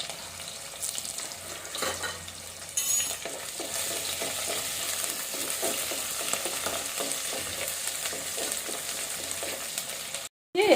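Ginger, shallots and fenugreek sizzling in hot oil for a Kerala-style fish curry, a steady close frying hiss with occasional stirring scrapes, cutting off abruptly near the end.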